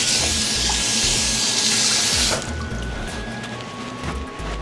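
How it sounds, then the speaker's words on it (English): Tap water runs steadily into a kitchen sink while a meat cutting board is rinsed, a loud close hiss that drops to a softer flow partway through. "Let me rinse my meat"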